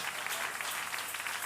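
Church congregation applauding together during a sermon, a steady dense wash of clapping throughout, moderately distant and fairly quiet, with no voices over it.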